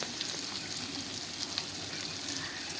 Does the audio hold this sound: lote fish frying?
yes